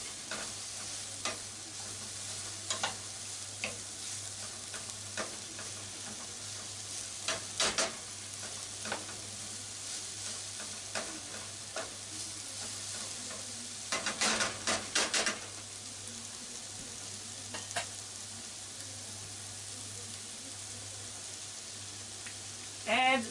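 Carrot and onion being stir-fried in a pan for a Japanese side dish, Ninjin Shirishiri: a steady close sizzle runs throughout, with intermittent scraping and clacking of a utensil stirring the vegetables, a few sharper bursts midway.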